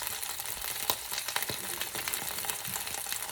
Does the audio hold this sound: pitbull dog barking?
no